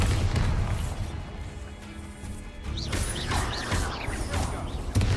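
A Bombarda blasting spell explodes in Hogwarts Legacy, loud crashing and grinding impacts with mechanical clatter over a continuous low rumble, ending in a sharp final hit.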